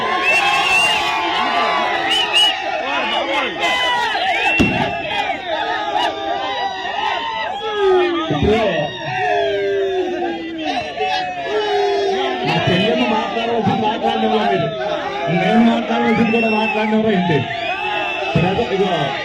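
Crowd at a Telugu Desam Party political rally shouting and cheering continuously, loud and dense, with voices rising in repeated bursts and a speaker's voice mixed in.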